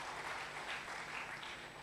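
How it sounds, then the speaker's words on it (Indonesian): A church congregation claps at a worship service, a steady, fairly faint wash of applause lasting a couple of seconds with no talk over it. "tepuk tangan buat Tuhan"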